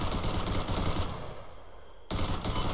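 Automatic rifle fire in a military video game, a dense, rapid stream of loud, close shots that pauses for about a second and then resumes abruptly.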